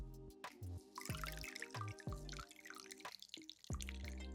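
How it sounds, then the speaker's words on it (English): Soapy water drips and trickles from a makeup brush squeezed after rubbing on a soap cake, a close run of wet drops and splashes with no voices. "Now, I am gonna squeeze."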